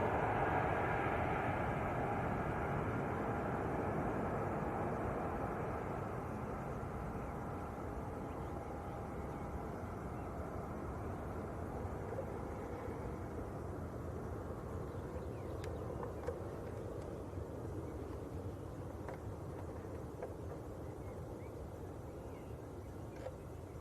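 An EasyJet Airbus A321neo jet bound for Nice at Manchester Airport gives a steady, broad roar that eases slightly in loudness as it goes on, with no talk over it.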